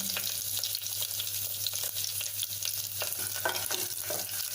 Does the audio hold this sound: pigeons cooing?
no